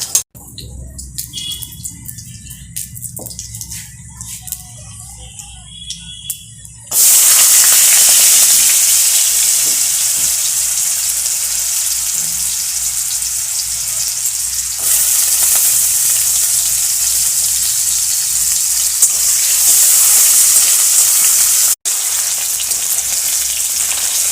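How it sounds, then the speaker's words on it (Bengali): Potatoes frying in hot oil with bay leaf, panch phoron and chilli, a loud, dense, continuous sizzle that jumps up abruptly after a quieter opening and holds steady, with a brief gap near the end. "প্রথমে তেল দিয়ে তাতে তেজপাতা একটু পাঁচফোড়ন আর লঙ্কা দেওয়া হবে প্রথমে এর মধ্যে আলুগুলো দিয়ে ভেজে নেওয়া হবে"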